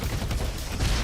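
Mortar strike explosions in a video game, fired at close range, a dense rapid rattle of booming blasts filling the short moment without talk.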